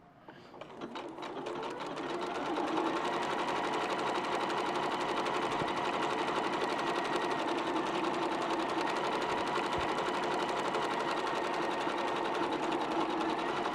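Sewing machine with a quarter-inch foot stitching a quilt, a fast steady mechanical whir and tick that ramps up at the start, then runs continuously and close.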